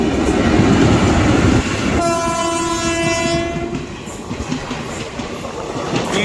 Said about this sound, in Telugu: సో ఇప్పుడు ఒక ట్రైన్ అయితే చూసారు కదా ఎదురు వస్తుంది